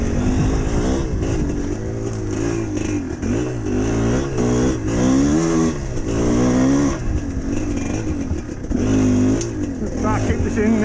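A GPX TSE 250R motorcycle ridden on a first full ride, its engine droning steadily and rising and falling in pitch through the whole stretch, with wind noise over it and a voice talking at times.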